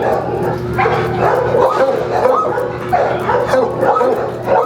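A dog at a pet resource facility whimpers, yips and barks repeatedly while being fed, with people talking close by throughout.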